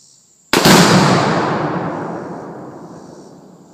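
One pound of Tannerite detonates when hit by a shot from an LWRC AR-15 rifle outdoors: a single sharp, very loud blast that rolls off into a long, fading rumble.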